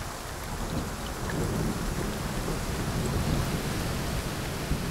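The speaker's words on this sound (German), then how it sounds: "der Regen, der nach wochenlanger Trockenheit niedergeht" Steady rain pours down with a dense, constant hiss and patter, broadband and even throughout, with a low rumbling undertone beneath.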